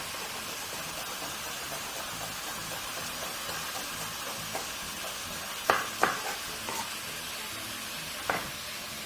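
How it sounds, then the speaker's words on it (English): Minced meat for keema sizzles and crackles steadily in a hot pan, with occasional scraping clicks of a utensil stirring it. "keep mixing the meat as it continues to cook."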